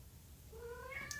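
A pet cat lets out a single drawn-out meow that rises toward the end, fairly faint over low background rumble with no talking.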